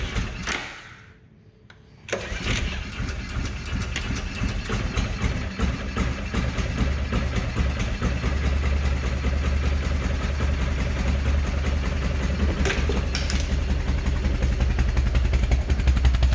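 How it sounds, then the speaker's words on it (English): A Kawasaki Prairie 360 quad's engine starts after a brief quiet gap and keeps running at a very low idle, a steady close rumble that continues to the end. "There we go, it's running, but the idle is very low"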